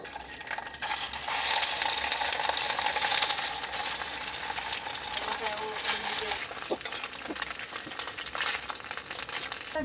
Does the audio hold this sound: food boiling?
yes